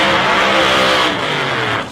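Supercharged 427 cubic inch Chevrolet drag car with an 871 blower, its engine roaring loud and steady at close range for about two seconds before easing off slightly near the end.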